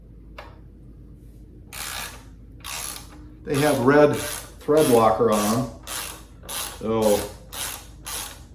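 A hand ratchet works loose bolts held with red thread locker while fitting a luggage rack kit to a 2024 Triumph Scrambler 400X motorcycle, giving close, crisp clicking bursts in repeated strokes, with someone talking over part of it.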